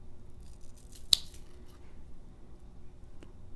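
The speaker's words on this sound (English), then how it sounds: "Let's also try some rope with these scissors." A Mossy Oak multi-tool's scissors cut through tough rope, giving one sharp, loud snip followed by a fainter second click, set against a quiet background.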